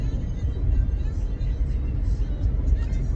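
A car on a road, its low engine and tyre rumble droning steadily up close from inside the cabin, with a voice speaking over it.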